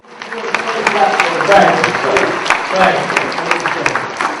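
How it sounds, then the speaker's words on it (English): A crowd applauds steadily, dense clapping with some voices mixed in, holding at an even level throughout. "give a rousing round of applause"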